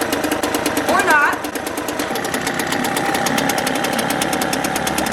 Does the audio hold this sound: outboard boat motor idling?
yes